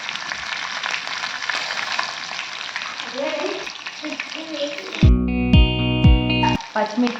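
Green chillies crackle and sizzle in hot oil for bread bajji, a close, steady frying hiss for about five seconds before a loud, sustained electronic tone cuts over it near the end.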